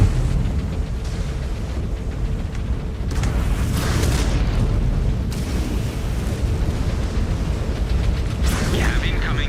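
Video game MechWarrior 5: Clans explosions: continuous heavy booming rumbles and blasts in dense mechanical battle noise, with a few sharper bursts near the middle and end, loud throughout.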